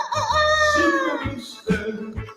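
A rooster crows loud and close, one full harmonic cock-a-doodle-doo call with a shorter second phrase trailing after it.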